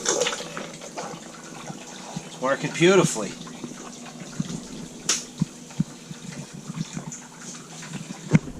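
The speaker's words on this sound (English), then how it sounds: "Pump some of the antifreeze out of my fresh water tank." Antifreeze is pumped out of a fresh water tank through a faucet, producing a gushing, splashing liquid flow in short bursts while someone talks nearby.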